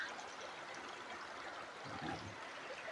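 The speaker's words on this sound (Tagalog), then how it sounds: "Itong malakas dito kasi ilog." A river rushes steadily where it meets the sea at its mouth, a continuous broad hiss of flowing water at moderate distance with no talk over it.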